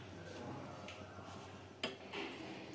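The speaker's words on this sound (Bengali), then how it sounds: "এবার এগুলোকে কন্টিনিউ নাড়তে হবে, একটুখানি ক্রাঞ্চি হয়ে যাওয়া পর্যন্ত এটাকে আমি কন্টিনিউ নাড়তে থাকবো।" Bread crumbs stirred in a pan on the stove give off faint, quiet scraping and light clinks of a utensil against the pan, with a couple of slightly sharper knocks near the end.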